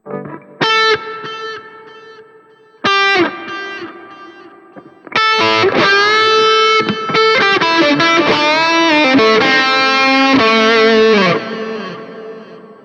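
An electric guitar plays through a distorted Bogner Shiva amp model on a Line 6 POD Go with delay: a few isolated notes ring and repeat, then a sustained run of chords and lines with trailing echoes.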